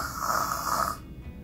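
A storyteller's voice imitates snoring, giving one drawn-out, raspy, close snore that breaks off, followed by a quieter pause.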